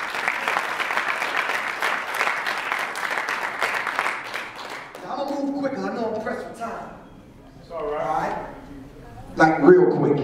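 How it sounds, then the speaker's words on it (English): Conference audience giving a round of applause, dense clapping for about five seconds that fades out, followed by a voice speaking over the quiet room. "Let's give them another round of applause."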